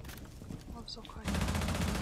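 Gunfire in an online shooter video game: a dense rapid burst of automatic shots erupts halfway through and keeps going, loud and close after a quieter stretch of game noise with faint voices.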